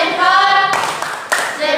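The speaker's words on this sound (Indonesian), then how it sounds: "mari orang tepuk salut" An audience claps hands steadily, a dense continuous patter with a few sharper bursts, fairly loud and without talk over it.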